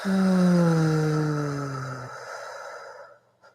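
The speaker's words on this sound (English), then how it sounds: "breathing out," A slow, deep exhale during a guided breathing exercise, heard alone and close as a voiced, sigh-like breath out that slides downward in pitch and fades away after about three seconds.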